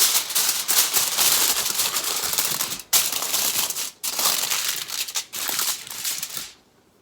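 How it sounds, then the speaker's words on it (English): Aluminum foil crinkles and crumples loudly over a baking sheet, a dense crackling run with two short pauses before it stops near the end. "We're gonna cover it with foil."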